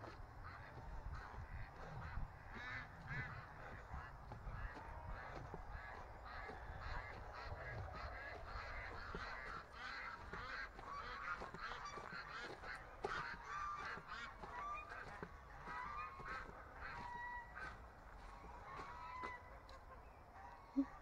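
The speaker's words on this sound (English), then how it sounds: "they're all at the door of the barn, quacking" A whole bunch of farm ducks gathered at a barn door, giving a dense, continuous mass of quacks and honking calls at moderate distance, with scattered sharper calls poking out of the steady chorus.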